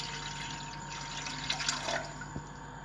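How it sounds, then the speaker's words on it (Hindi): One litre of water pours into a wok on a lit stove, a faint, steady trickle and splash with a few brighter spatters partway through, heard alone without talk. "हमने कढ़ाई में 1 लीटर पानी डाल दिया है।"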